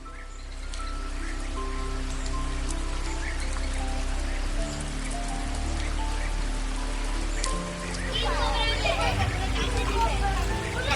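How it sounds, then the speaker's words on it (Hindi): Heavy rain falling at night during a Mansa puja, a steady dense roar of raindrops on surfaces filling the whole stretch, with faint murmuring voices beneath. "हर वर्ष विशेषकर रात्रि पूजन के समय भयंकर बारिश होती है"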